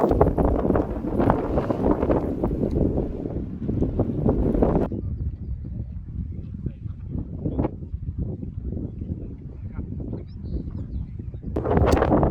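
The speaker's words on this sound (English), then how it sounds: "it's a bit too damn windy as I say again" Heavy coastal wind buffeting the microphone in loud rumbling gusts, easing partway through and then surging again near the end.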